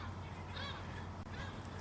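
Harsh squawking calls from a couple of fighting seagulls, fairly close, over a windy outdoor rumble.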